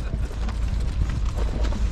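Three horses' hooves clip-clop in a dense, continuous patter on the ground, steady and fairly close, with some rumbling background noise.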